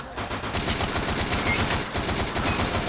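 Automatic weapons fire in the zombie shooter game Unkilled, a loud, rapid, continuous stream of closely spaced shots in sustained bursts with no pause.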